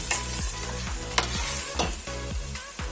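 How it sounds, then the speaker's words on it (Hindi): Keema and potato masala fries loudly in a kadai with a constant sizzle. A spoon scrapes and stirs in a quick, regular rhythm close up, and no voices are heard. "अब इसको हम तकरीबन 2-3 मिनट भूनेंगे"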